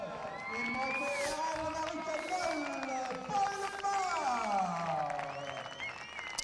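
Applause and cheering from the audience at a horse endurance award ceremony in Uzès, a steady wash of clapping and crowd noise throughout, with a French announcer speaking over it.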